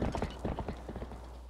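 A horse's hooves clop in a quick, regular rhythm in the Wii video game Twilight Princess, about eight soft, close hoofbeats over a faint steady hum, fading slightly toward the end.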